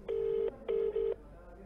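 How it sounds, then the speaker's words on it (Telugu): A phone call being placed to a politician, with three short, loud electronic ringback tones in quick succession, the last two close together, over a quiet line with no talk. "ఆర్టీవీ ఆయనకు ఫోన్ చేస్తోంది."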